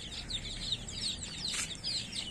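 Hens and chicks cluck and chatter in a steady, busy stream, with bright overlapping calls over a low background rumble and no voices.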